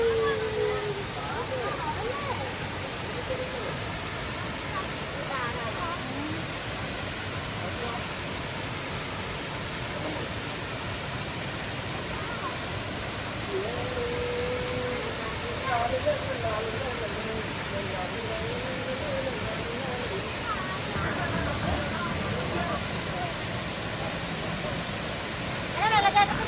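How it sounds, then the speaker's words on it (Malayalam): A waterfall deep in a Norwegian forest gives a steady, broadband rushing roar that holds evenly throughout, with faint voices and small sounds over it. "വെള്ളച്ചാട്ടത്തിന് സൗണ്ട് കേട്ടോ."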